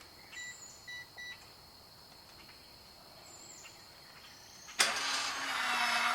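A battery-operated wireless keypad gives two short electronic beeps, then after a quiet pause a solar-powered gate opener starts up with a sudden loud whirring motor that keeps running steadily.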